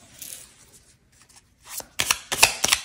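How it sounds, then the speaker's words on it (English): Tarot cards are shuffled during a pick-a-card reading, soft rustling giving way to several crisp riffling bursts close by, with no talking. "As I shuffle these cards, people are dreaming about you right now."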